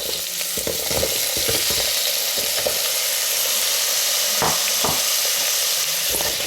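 Chunky bite-size potato pieces fry loudly in a pot for vegetable biryani, a dense continuous sizzle broken by scraping stirs and clinks of a spoon, close and without speech.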